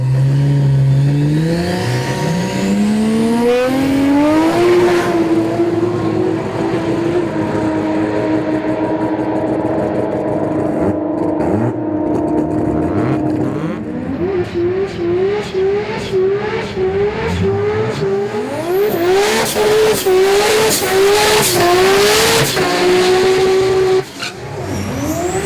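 A twin-cam street VL drag car makes a radial pass on a drag strip, its engine revving loud and close and climbing through rapid gear changes, with tire squeal and a long sustained high-rpm run.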